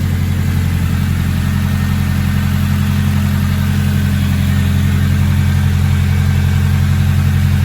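A car engine idles steadily and loudly close by during heat cycles after the cooling fan kicks in, with a constant low rumble, a slight rise in level toward the end, and no voices.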